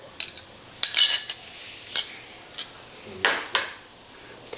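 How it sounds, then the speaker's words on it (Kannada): A cooking pot is set down on a kitchen stove while puffed-rice vada is being made, giving a few short metallic clanks and knocks in a quiet room with no voices. "ಒಂದು ಪಾತ್ರೆ ಇಟ್ಕೋತೀನಿ ರೀ"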